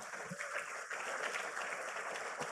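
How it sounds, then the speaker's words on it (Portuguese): A church congregation applauds during a sermon, a steady, dense wash of clapping for a couple of seconds at moderate level with faint voices mixed in. "Você pode aplaudir o Senhor por essa palavra?"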